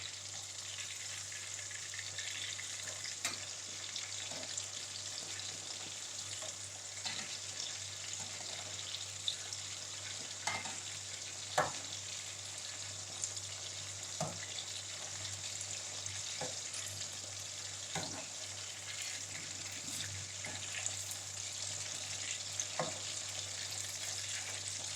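Chicken pieces fry in a pan over low to medium flame for Hyderabadi-style chicken, a continuous close sizzle broken by scattered sharp pops and crackles, with faint water running in the background and no one speaking.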